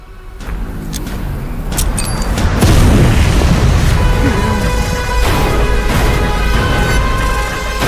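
Explosions from an action movie trailer boom repeatedly over a dense, loud score, with sharp bursts and heavy low rumbles building toward the middle and continuing to the end.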